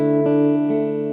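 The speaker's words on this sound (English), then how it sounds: "that's it, like on a basic hall reverb" An electric guitar plays through a Fathom reverb pedal on a basic hall setting: a sustained chord rings out, a couple of soft re-attacks swell into a smooth, lingering hall wash, with no voices.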